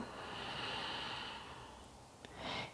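A long, deep exhale through the nose and mouth during a yoga flow, a soft airy breath close to the microphone, followed by a brief sharper sniff at the end.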